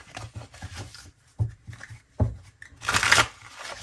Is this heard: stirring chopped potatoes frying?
no